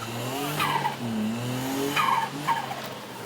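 Tires of a Japanese mini truck squeal and skid as the wheels spin at the start of a timed cone course, with engine revving underneath and several rising screeches in quick succession.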